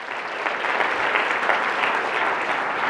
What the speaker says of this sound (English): Let's hear it for these guys one more time.